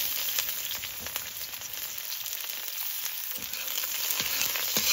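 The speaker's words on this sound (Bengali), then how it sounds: "দিয়ে দেবো জিরা, আর দিয়ে দেবো তেজপাতা, দিয়ে দেবো পেঁয়াজ আর রসুন।" Cumin, bay leaf, onion and garlic fry in oil in a large open kadai, making a steady, close, crackling sizzle that runs throughout without a break.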